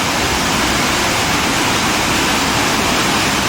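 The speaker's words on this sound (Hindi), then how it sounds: "गंगा नदी, और यहाँ बहुत ज़ोर से वहाँ से गिरती है। प्रवाह बहुत तेज़ है," The Ganges falls forcefully into Surya Kund below Gangotri, a loud, unbroken roar of rushing water close at hand.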